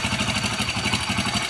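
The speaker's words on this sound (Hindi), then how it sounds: "तो फिलहाल के लिए बाइक को स्टार्ट करते हैं।" A motorcycle engine idles with a steady, rhythmic low throb and a hint of mechanical clatter, close and fairly loud with no voices. The engine had a faulty dowel and a cut cam and had been making a timing-chain-like noise.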